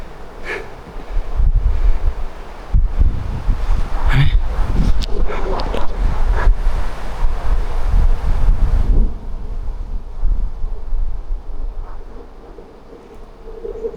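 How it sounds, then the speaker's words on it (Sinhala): Wind gusts through pine trees on a hilltop camping trek at Hawagala, Sri Lanka, a loud, rumbling roar with leafy rustle and some buffeting on the microphone, easing off into a softer, steadier hush in the last few seconds. "මේ ෆයින් ගස් මැද්දෙන් අර හුළඟ යනකොට වෙනස්ම සද්දයක් ඇහෙන්නේ"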